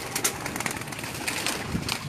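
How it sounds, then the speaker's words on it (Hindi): Black cheena pigeons, newly hatched young birds of a fancy breed, coo softly in a loft, with a few short calls over a steady, airy background hiss. "काले चीने बहुत फेमस हैं ये हमारे ये कबूतर"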